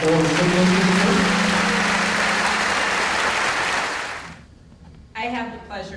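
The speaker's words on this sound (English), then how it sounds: "If we could have another round of applause for our four recipients." At a middle school graduation, an audience gives a full round of applause for award recipients, thick steady clapping that tapers off after a few seconds before a voice begins speaking.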